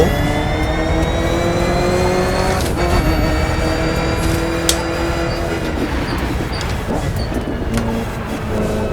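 Ford GT muscle car engine in The Crew 2 racing game, cruising across the central United States, drops a gear and pulls hard, a steady loud engine drone with rising harmonics and a brief shift break near the middle.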